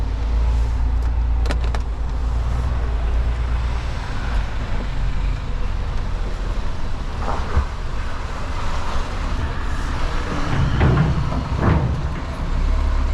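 Inside the cab of a heavy haulage truck pulling out of a quarry with an abnormal load, a 30-ton Komatsu HM400 dumper, on its trailer: a loud, continuous low engine drone with some rattles and faint rumbles.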